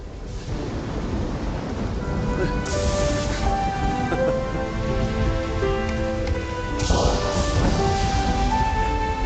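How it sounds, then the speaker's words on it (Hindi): Steady heavy rain hisses on surfaces while rolling thunder rumbles twice, with soft background music under the storm. "बारिश होने वाली है।"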